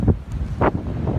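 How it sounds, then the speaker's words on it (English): Strong mountain wind on a Colorado elk hunt buffets the microphone in low, rumbling gusts, with two louder surges within a brief stretch. "and it's windy as hell"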